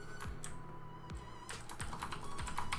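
Quick, irregular clicks and clacks of keys being typed on a computer keyboard, close up and moderately quiet, with occasional heavier keystrokes.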